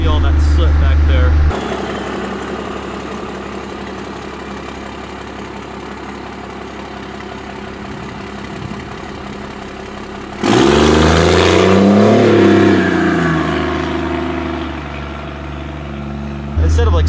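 Cummins diesel truck engine idling, then throttle pumped into a loud rising rev before settling back, close and rumbling, with a voice talking over part of it.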